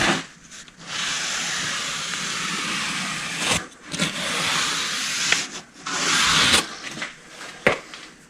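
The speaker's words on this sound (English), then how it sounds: "take a stiff bristled brush, not the same ones you clean the floor mats with" A stiff-bristled brush scrubs a car's carpet in steady, close rasping strokes, with brief pauses between passes and no talking.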